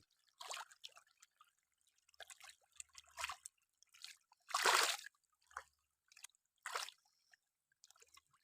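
Fish splashing at the surface of a school pond, a series of short wet splashes and drips, with one bigger splash in the middle, near and fairly quiet, no talking.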